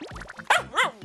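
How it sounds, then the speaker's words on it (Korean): A puppy from a litter of six countryside pups yips and barks in quick, high, excited bursts, close to the microphone, with no speech. "특히 올라타서 짖기까지 하는 설이"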